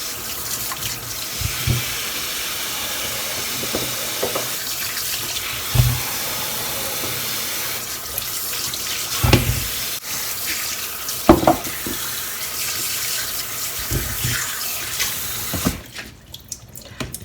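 Pumpkin pieces are rinsed under a running kitchen tap, the water gushing and splashing steadily with intermittent bursts of louder splashing before the flow cuts off near the end.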